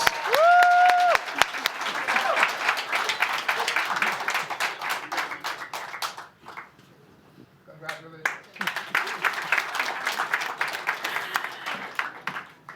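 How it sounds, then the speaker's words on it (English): Applause for the champions of the National African History Quiz 2025 finals, as a crowd claps in a steady burst that briefly dips, then resumes strongly; a short tonal beep sounds at the start. "Round of applause."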